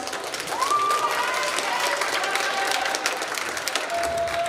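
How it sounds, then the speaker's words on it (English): A room full of people at a school assembly claps steadily and loudly for several seconds, with a brief high whistle-like tone near the start and end. "Everyone, give a pre-round of applause."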